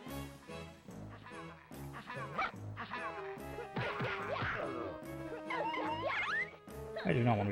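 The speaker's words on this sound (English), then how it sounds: "I do not want to be fighting these dogs" Cartoonish dogs barking and yipping in the PS1 game 40 Winks, repeated sharp barks and whimpers with clanking hit effects over game music, a voice talking along.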